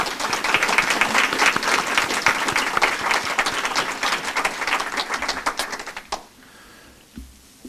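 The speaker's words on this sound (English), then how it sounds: "let's give a round of applause to Trillium." Audience applause at a hospice Tree of Remembrance event: sustained dense clapping from a crowd for about six seconds, then quickly tapering off into quiet with a few stray claps.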